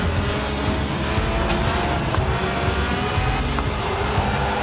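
A Lotus Elise with a 1.8-litre engine that revs to 8,000 RPM, racing in Forza Horizon 4, loud continuous engine roar with tire noise, sustained throughout without talk.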